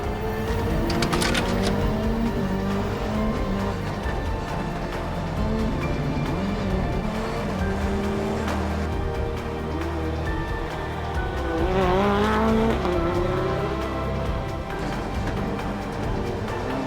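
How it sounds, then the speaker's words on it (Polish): Ford Escort WRC rally car driving, heard from behind the wheel, with a steady loud engine drone and rising and falling revs that peak around the middle, continuous throughout with no talk. "Właśnie siedzę za kierownicą prawdziwej legendy Ford Escort WRC"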